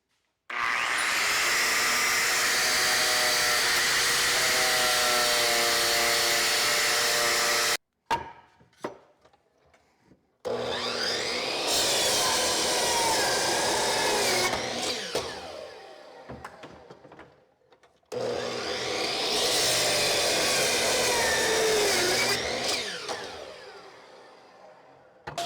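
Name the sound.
2 horsepower 120 volt mill drill running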